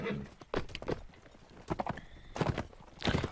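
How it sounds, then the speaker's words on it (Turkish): Horses in the video game Mount and Blade: Warband gallop with loud, rapid clip-clop hoofbeats in uneven bursts, with a whinny partway through. "O atlar surlardan atlıyor lan."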